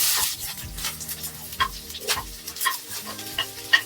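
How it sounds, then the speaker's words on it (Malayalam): Chopped onion sizzles in hot oil in a pan with mustard seeds and curry leaves while being stirred for egg masala, giving steady frying crackle with irregular scraping stir strokes, close and clear with no talking. "ആദ്യം നമുക്ക് സവാള ഇടാം."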